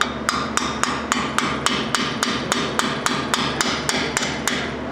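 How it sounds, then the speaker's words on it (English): A hammer taps a new lower ball joint into place on a 1997 Subaru Impreza, striking metal in about fifteen sharp, evenly spaced blows at close range. There is no talking. "Grab the the hammer for a little love tap"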